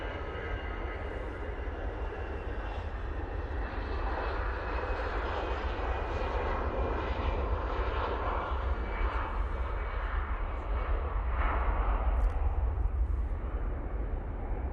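Airliner on final approach into Manchester Airport, a steady, loud jet engine roar held throughout with a broad rumble, slowly swelling toward the end as it draws nearer.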